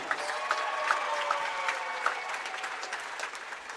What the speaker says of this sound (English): Let's have a round of applause for number 10,